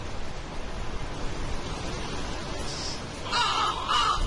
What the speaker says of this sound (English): A murder of crows eagerly eating on something.